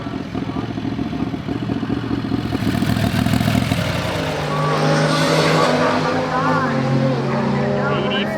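Turbo 670 dragster engine roaring through a pass with loud, sustained mechanical noise that surges and shifts in pitch partway through. Voices talk over it.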